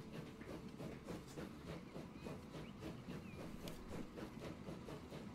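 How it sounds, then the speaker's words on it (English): Train rolling along rails in the Transport Fever 2 video game, a steady rhythmic clatter of wheels over track joints with a low rumble and faint hiss, continuous and moderately quiet throughout. "Shall we go on a ride with the train we have?"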